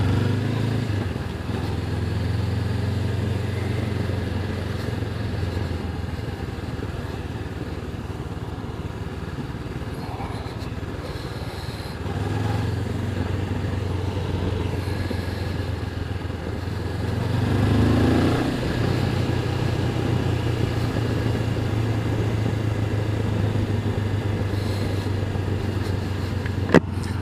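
Honda CB500X motorcycle engine running steadily while being ridden, a constant low drone with a brief rise in revs partway through, close and alone with no talk.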